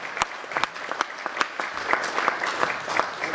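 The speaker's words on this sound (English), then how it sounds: "Give him a round of applause" Applause from an audience at a 24-hour basketball shootathon event, sparse, distinct claps rising into a steady patter, fairly close and moderately loud with no talk over it.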